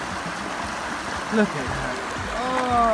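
Cold mountain stream water runs steadily at Abrams Falls in the Smoky Mountains, a constant close rush beneath voices talking.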